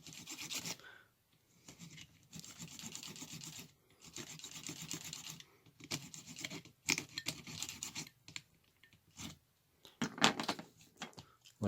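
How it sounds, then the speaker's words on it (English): A small blade scrapes and gouges the edge of a wooden flatcar deck in short, close, quiet rasping strokes separated by brief pauses, with no talking. "You can also get some pretty good gouges into the deck edge with the smaller blade like this."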